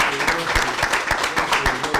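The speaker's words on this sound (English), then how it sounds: "Can you clap for women?" Webinar audience clapping together in a steady run of sharp, evenly spaced claps that fill the short stretch at moderate loudness, with a faint voice underneath.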